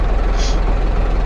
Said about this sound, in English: The eagle-eared among you will hear that this is a different engine noise